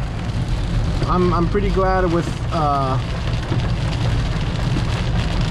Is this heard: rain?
yes